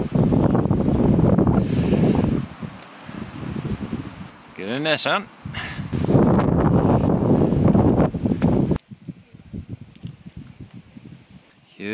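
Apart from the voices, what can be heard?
strong wind on a Snowdonia mountain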